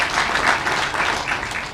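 Applause from a crowd gathered at a groundbreaking ceremony for a new Kaiser Permanente Mid-Atlantic headquarters building, a steady, dense wash of many hands clapping close by that continues without pause.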